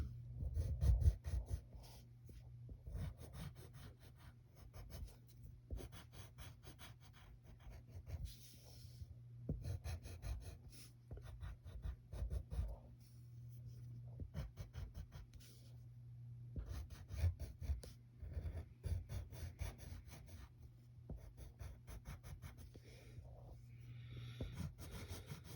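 A pencil scratches and rubs across paper while a cartoon bug character is drawn, with steady close strokes in bursts and short pauses and a low hum underneath throughout.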